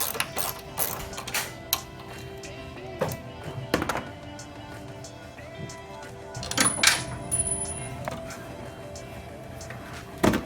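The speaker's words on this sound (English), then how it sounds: "And you would use a 10mm socket for this." A socket wrench works bolts loose on a 2007 Acura TSX during AC evaporator replacement, giving close, irregular ratcheting clicks and metallic thunks over a low background.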